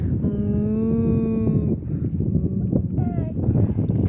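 A voice imitates a cow mooing with two drawn-out, tonal moos, the first long and steady, the second shorter and rising, close and loud against background noise.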